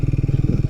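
A Triumph 400 motorcycle engine thrums in a rapid, even pulsing beat while being ridden, a low throbbing close to the microphone.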